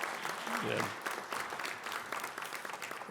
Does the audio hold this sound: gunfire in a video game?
no